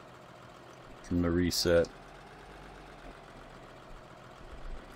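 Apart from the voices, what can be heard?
New Holland tractor engine idling, video game Farming Simulator 2013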